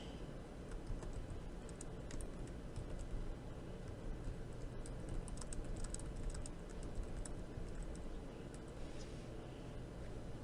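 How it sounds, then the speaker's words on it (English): Steady typing on a computer keyboard while entering a footnote in a Microsoft Word document, quiet continuous key clicks over a low background hum, with no talking. "At the bottom of the page, type the note."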